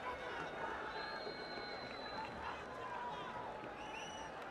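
A packed cricket stadium crowd at a Legends League Cricket final between Asia Lions and World Giants, a dense roar of cheering and babble with faint whistles, continuous throughout with a commentator talking over it.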